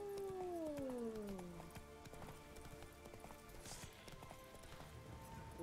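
Roach the horse trots in The Witcher 3, hooves clip-clopping in a steady rhythm at moderate distance. A falling whistle-like tone passes early on, and soft ambient game music sits underneath.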